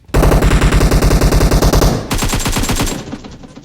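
Loud, rapid automatic gunfire in the mobile battle royale game PUBG Mobile, a sustained burst of closely spaced shots followed by a second, slightly different volley that tails off, with no speech.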